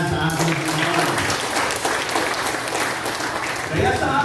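A church congregation claps loudly to praise the Lord, a dense continuous roll of clapping mixed with voices and cheering throughout.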